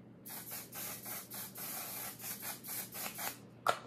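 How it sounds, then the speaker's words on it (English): One Size mattifying waterproof setting spray is misted onto a face in a rapid series of short hissing pumps, close and fairly loud, ending with a small click. "I still need to go in with my Patrick Star One Size Mattifying Waterproof Setting Spray."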